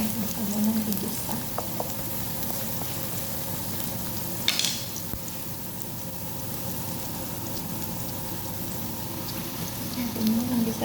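Chopped onions sauté in a hot pan with a steady, close sizzle and crackle that runs throughout, with occasional stirring scrapes and small clinks on top.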